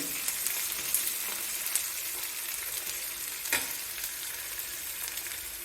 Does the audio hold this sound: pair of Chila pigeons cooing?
no